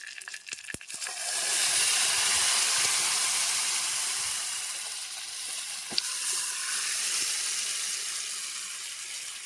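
Steady, loud sizzling hiss as leafy greens hit a hot oil tempering, holding broadly for several seconds with a faint crackle, no voices.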